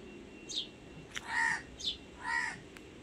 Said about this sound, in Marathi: छान पक्षी ओरडत असतात